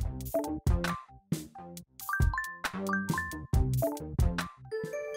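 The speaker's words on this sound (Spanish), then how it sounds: "Escucho un sonido diferente. Reconozco la notificación. Es un mail que debo responder con urgencia." A phone plays a bright chiming notification melody for an incoming email, a run of clear, loud ding-like tones in quick succession with no talking.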